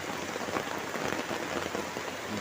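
Heavy rain pouring down on a village, a dense, constant patter and hiss of drops striking surfaces, loud and even throughout with no voices.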